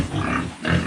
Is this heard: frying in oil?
no